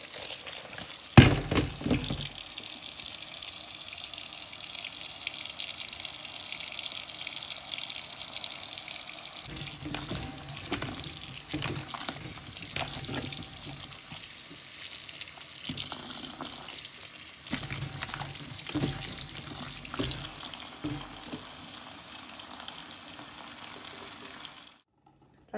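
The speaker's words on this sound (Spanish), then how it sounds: "voy a lavar las fresas bajo el chorro del agua" Tap water runs steadily onto strawberries in a plastic container with a pinch of soap powder, a close, continuous splashing stream lasting nearly half a minute before the tap shuts off abruptly.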